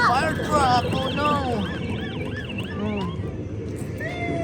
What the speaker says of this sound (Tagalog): Oh, fire truck.